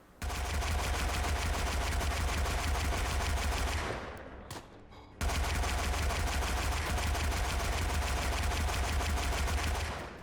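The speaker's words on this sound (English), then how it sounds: "Jumping on an MG, if timed correctly, will allow you to gun down and suppress huge masses of troops" Machine gun fire in the World War I shooter game Tannenberg: a loud, continuous rapid rattle of automatic shots, breaking off for about a second before resuming just as densely.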